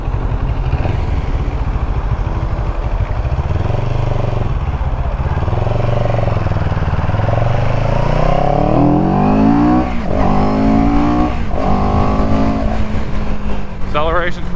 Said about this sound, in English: It's nice and grunty sound from the motor.